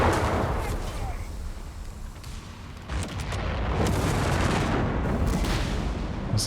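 BR 5.5 artillery shells fire and land in Company of Heroes 3, with repeated booming blasts and rumbling impacts through a busy battle soundscape, mixed under talk.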